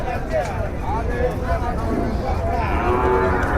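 A local desi bull at a crowded cattle market in Bogura lows in several drawn-out moos, loud and near, with faint crowd noise behind.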